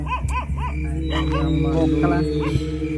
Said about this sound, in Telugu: ఏందిరా కుక్కలు అక్క అరుతున్నాయి?